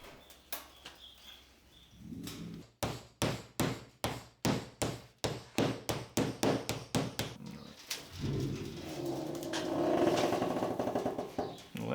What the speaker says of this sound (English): I used some thin sheet steel and folded it into a tray to catch the wax.